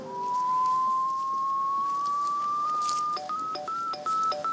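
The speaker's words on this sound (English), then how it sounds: "You hear the beeping, that tells you you're really close." A pipe inspection camera locator in a basement gives a clear electronic tone that rises steadily in pitch. It then breaks into short repeated beeps as it closes in on the signal.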